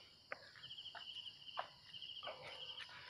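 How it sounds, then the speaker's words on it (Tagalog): Crickets chirp in a forest along a mountain hiking trail, a faint high trilling in repeated short bursts, with soft footsteps crunching nearby. "yung mga kuliglig"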